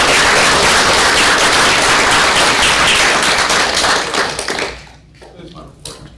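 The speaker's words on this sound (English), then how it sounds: "I'd like to give them a round of applause for that." Loud sustained applause from a board of governors meeting audience, dense and even for about four seconds before fading out into scattered claps.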